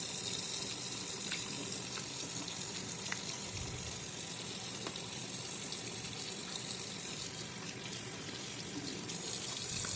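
Leeks are rinsed and washed under a running kitchen tap, giving a steady hiss of flowing water with faint handling clatter throughout, no voices.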